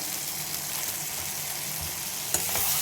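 Spices including hing and garam masala sauté in a hot pan with a steady, dense sizzle and crackle throughout, close and fairly loud, with a brief clink of a utensil near the end.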